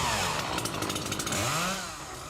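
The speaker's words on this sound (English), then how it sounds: "now for how not to use a chainsaw" A chainsaw revs loudly and close, its buzzing pitch rising and falling as it bites into a tree during tree trimming, with no voices.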